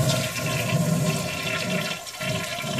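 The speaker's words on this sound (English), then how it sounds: "Now I'm going to flush it." A toilet flushes in one continuous rush of water, loud and close throughout, swirling steadily with a slight dip near the end before surging again, with no talking.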